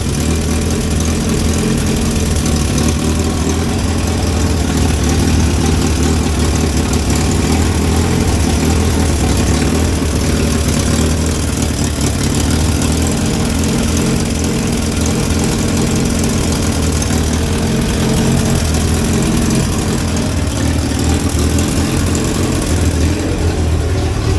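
The engine of a 1963 Hillman Super Minx runs steadily without choke, a loud, close, rough idle with a continuous low rumble and vibration and no change in speed.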